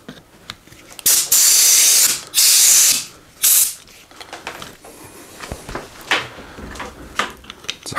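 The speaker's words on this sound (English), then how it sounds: "Squirt a little compressed air behind them." Compressed air sprayed behind the handlebar grips of a Trek 4500 mountain bike, three loud close hissing bursts of about a second each, followed by quieter clicks and handling noises of the grips.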